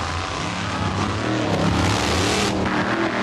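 A supercharged 440 Dodge drag racing a Chevrolet at night, a loud continuous engine roar with deep low rumble and broadband noise that swells slightly toward the middle, no talk.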